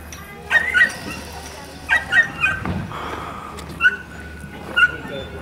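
A sheepdog at a sheep station near Queenstown, New Zealand, gives sharp yips and whimpering barks in short bursts, fairly close, over outdoor background noise.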